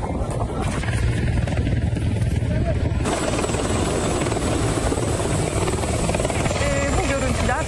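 Loud, continuous thudding rotor and engine roar of an Israeli Yasur military helicopter in flight, with wind buffeting and a shift in tone partway through.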